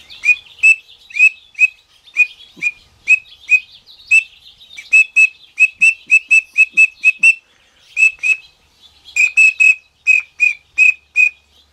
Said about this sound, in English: The other type of whistle is one like this.